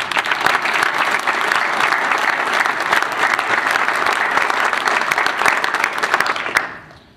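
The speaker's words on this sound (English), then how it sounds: "so I would ask that you join in a round of applause" Conference audience applause at the closing of a maritime security event, dense sustained clapping from a large crowd that holds steady for several seconds and then drops away abruptly at the end.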